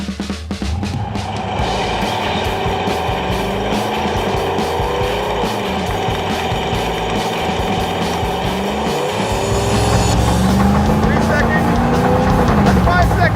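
A beat-up beater car doing a full-throttle tire burnout roars with a sustained engine howl and screeching tire spin that grows louder near the end, with voices over it.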